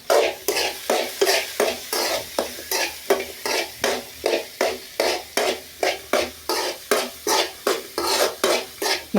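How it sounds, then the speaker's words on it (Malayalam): Chopped onion, garlic, neem leaves and crushed ginger sizzle in a pan over a wood-fired stove while a spoon stirs them in a steady, rapid rhythm of scraping strokes, close and clear with no speech. "ഇതാ വലിയ ഉള്ളിയും വെളുത്തുള്ളിയും വേപ്പിൻ്റെ ഇലയും ഇഞ്ചി ചതച്ചതും ഒക്കെ ഇട്ട് കൊടുക്കുകയാണ്"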